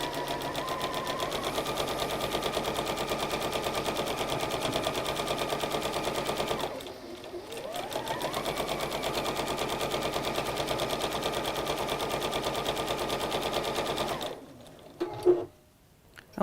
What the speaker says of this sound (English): And we sew the rows of 4s to the top and to the bottom of the square.